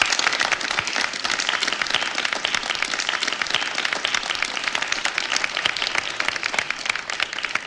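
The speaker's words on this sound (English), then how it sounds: "Go ahead and clap. They worked hard." Dense, steady applause greets a graduating class of a program, a continuous even roar of many hands clapping throughout at close range.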